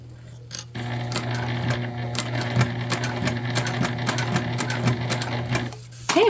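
A sewing machine runs steadily for about six seconds, stitching a fabric book sleeve with a bow, a loud continuous mechanical whir with rhythmic clatter that starts after a brief pause and stops near the end.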